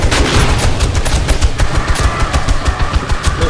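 Automated turrets rattle off dense, continuous rapid fire at a horde of zombies on horde night in the video game 7 Days to Die, loud and unbroken throughout.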